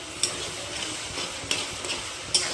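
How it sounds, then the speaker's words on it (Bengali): Fish roe sizzles and fries in a pan while a utensil stirs it. Steady frying hiss runs throughout, and a few sharp scrapes or clinks of the spoon against the pan stand out. "ভালো করে নাড়াচাড়া করে নিতে হবে।"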